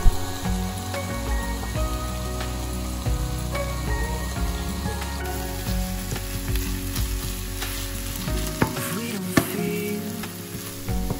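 Ricotta stirred into a finely chopped fresh herb filling in a bowl, giving a steady, close, wet mixing and scraping sound that runs continuously with no talk.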